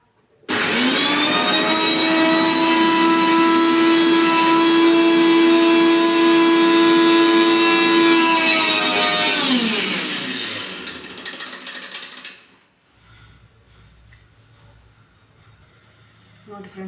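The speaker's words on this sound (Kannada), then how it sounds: "ತಣ್ಣಗಾದ್ಮೇಲೆ ಇದನ್ನು ಮಿಕ್ಸ್ ಮಾಡಿಕೊಂಡು ಪೌಡ್ರ್ ಮಾಡ್ಕೊಳ್ಳೋಣ." A mixer grinder whirs loudly while powdering a cooled, dry-roasted fish fry masala, holding a steady high motor whine for about ten seconds before spinning down, followed by quiet handling noises.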